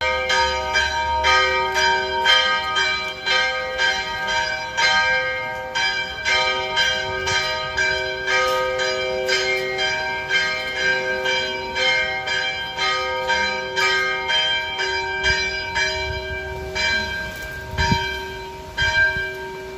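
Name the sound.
church bells ringing in Palermo, Sicily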